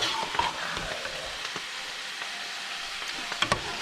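Meat for spaghetti and meatballs sizzles steadily in a pan, a continuous close frying hiss with occasional stirring scrapes and a couple of sharper pops near the end, no voices.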